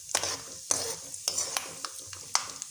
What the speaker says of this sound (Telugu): పులిహోరలోకి వేరుశనగపప్పులు బాగుంటాయి కదా. బాగా బ్రౌన్ కలర్ వచ్చేదాకా వేయించాలి.